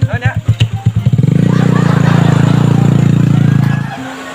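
A motorcycle engine starts with rapid pulsing bursts and then settles into a loud, steady, close revving drone that holds for several seconds before cutting off abruptly.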